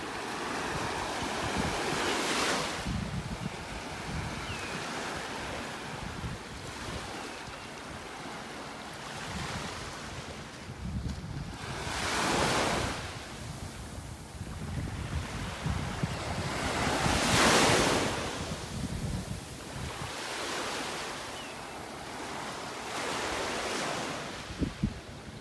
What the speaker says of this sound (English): I just enjoy walking along, listening to the waves.